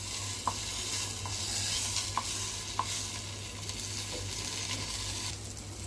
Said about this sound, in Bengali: এখন আমি দুইটা পরোটা ভেজে নেব।